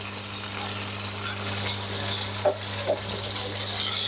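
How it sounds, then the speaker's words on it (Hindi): Chicken frying in a pan as water is added, a steady sizzle with a few splashy bursts over a constant low hum, close and alone without talking. "अब हम इसमें थोड़ा सा पानी ऐड करेंगे,"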